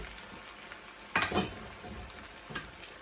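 Broth is stirred into an orange fennel mascarpone risotto, a soft wet sizzle with a louder splash and scrape about a second in and another brief stir later, alone.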